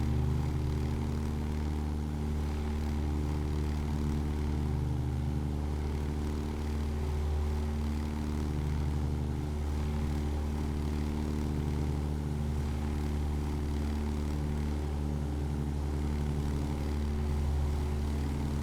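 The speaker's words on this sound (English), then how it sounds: "Nice flyby there, Captain Wotan." A biplane in a flight simulator game drones steadily past, its engine a continuous, even propeller hum that holds level for the whole stretch with no talk.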